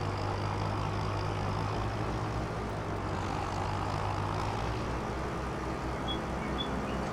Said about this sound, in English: This is the Challenger tractor.